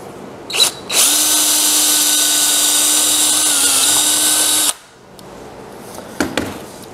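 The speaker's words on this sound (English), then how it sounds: "Take my tenon cutter." Power drill fitted with a tenon cutter spins up and bites into wood for about four seconds, a loud close whine under load, then stops, leaving a few faint handling clicks.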